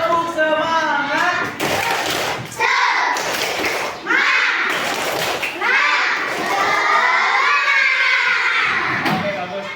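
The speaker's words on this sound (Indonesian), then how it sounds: "ayo kita tepuk semangat dulu" A class of children doing a tepuk semangat clapping chant, with loud shouted voices, rhythmic claps and thumps, and a lively, crowded feel close by throughout.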